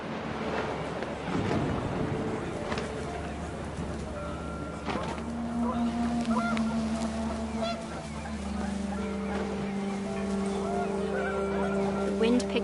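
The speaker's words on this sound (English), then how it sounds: "The wind picked up, and panicked geese appeared and quickly went." Panicked geese in the video game What Remains of Edith Finch honk repeatedly in overlapping calls over a windy, steady background, the honks growing denser toward the end.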